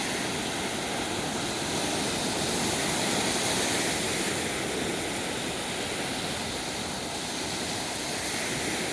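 Steady ocean waves wash onto a Florida beach in a continuous, full-bodied roar of surf with no speech, loud and close throughout.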